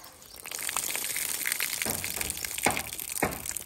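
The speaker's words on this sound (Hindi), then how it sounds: "हांडी में डालेंगे पानी।" Water gushes steadily into a cooking pot (handi) on a stove for village-style dal, a continuous close pour lasting a few seconds with no talking.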